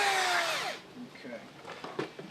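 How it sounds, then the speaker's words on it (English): Power drill with a 5/16 bit bores a hole in scrap, a loud whining spin that winds down after under a second, followed by quieter handling noises and a voice. "let's go ahead and drill a hole to make sure that we have what we want"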